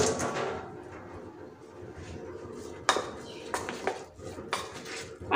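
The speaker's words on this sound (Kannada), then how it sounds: "ಒಂದು ಸ್ಪೂನ್ ತೊಗೊಂಡು ಚೆನ್ನಾಗಿ ಮಿಕ್ಸ್ ಮಾಡ್ಕೋಬೇಕು" A spoon scrapes and clinks against a bowl while soya chunks are mixed with masala, a steady soft scraping broken by several sharper metallic taps near the end, close by and with no talk.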